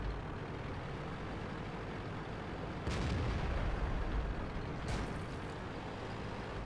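Heavy tank cannon shots in World of Tanks, two booming blasts with rumbling tails about two seconds apart, heard over a quiet background hum.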